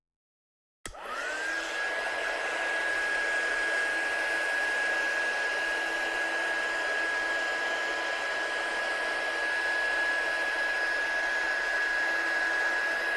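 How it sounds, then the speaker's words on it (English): A heat gun switching on to heat set a craft project, a sudden click then a steady loud blowing whir with a constant high tone, running alone without a break. "Heat gun again."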